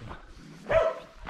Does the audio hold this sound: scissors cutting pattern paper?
no